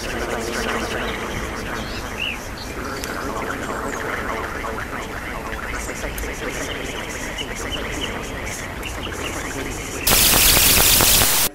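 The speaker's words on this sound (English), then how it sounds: "an analog unknown signal has interfered with our frequency" Radio static interference in the video game Reliq: a crackling, buzzing texture runs under a game soundscape, then bursts into a loud wash of hiss near the end.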